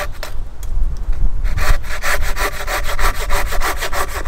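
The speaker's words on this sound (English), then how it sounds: "I'll just cut this branch off because this one needs to come down." Steady back-and-forth rasp of an Oregon 330mm arborist hand saw biting through a large tree branch, quick rhythmic strokes, close and loud after a brief rustling start.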